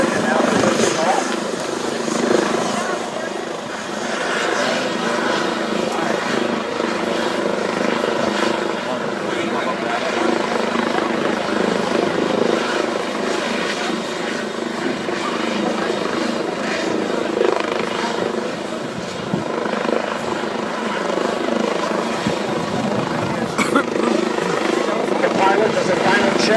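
A rescue helicopter lifts off with a loud, steady rotor and engine roar that fills the whole stretch, close by, as people speak over it.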